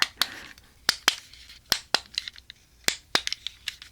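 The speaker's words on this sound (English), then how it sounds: "what if I whisper in one ear and push buttons in the other?" Sharp plastic clicks from buttons being pushed on a sensory cube, close to the microphone in an irregular run of about a dozen taps with quiet gaps between, no voice over them.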